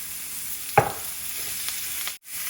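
Pork chops sizzle in an oiled pan as they are turned, a sharp clatter of the utensil marking the flip over a continuous close hiss, with a brief dip in the sound just before the end.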